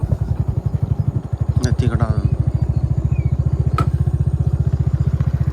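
A motorcycle engine idles with a steady, rapid putter throughout, close by, while someone talks over it.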